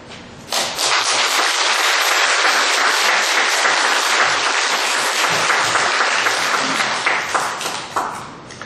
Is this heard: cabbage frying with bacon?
no